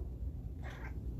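A cat meows once, a short close call rising over a quiet room, with no talk during it.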